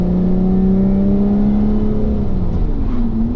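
A supercharged V6 in a Lotus Evora 410 driven in sport mode, its loud steady engine note rising gradually in pitch as it revs, heard from inside the car.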